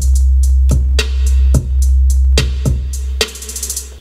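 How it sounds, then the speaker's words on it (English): A replicated hip-hop drum beat plays loud and up front, with punchy kicks and sharp snare hits over a heavy, booming bass in a steady rhythm, and a brief fill near the end. "So I listened carefully to the drums, replicated them, they sound like this."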